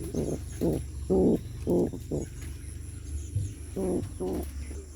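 Bombay pigeon chicks coo in short, muffled bursts, about eight close calls in uneven rhythm over a low steady hum.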